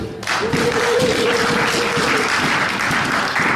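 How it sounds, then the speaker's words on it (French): A church congregation breaks into loud, sustained applause after a Bible reading, a dense continuous roar of many hands clapping close by, with a brief held tone near the start. "Est-ce qu'on peut acclamer le Seigneur pour cette lecture?"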